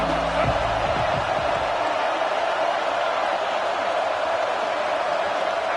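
Dense, roaring college football stadium crowd at Ole Miss versus LSU, a steady broadband wall of cheering and whooping that holds loud and constant throughout, with a brief low thump near the start.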